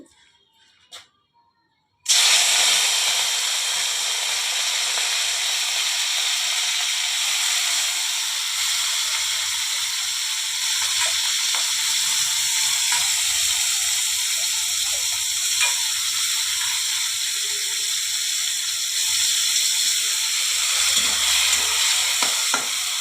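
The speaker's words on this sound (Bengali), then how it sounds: "এখন আমি গেরিটাকে ভেজে নেব।" Apple snails seasoned with turmeric and salt fry in a pan with a loud, steady sizzle that starts suddenly after a short quiet moment and continues unbroken, with faint stirring scrapes underneath.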